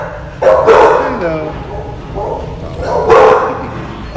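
A pit bull mix puppy at an animal shelter gives short, high yips and little barks, close by, with a person's voice talking over and between them.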